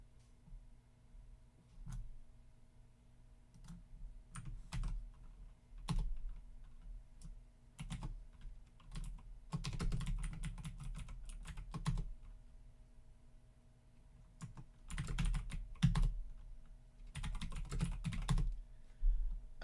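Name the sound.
typing on a computer keyboard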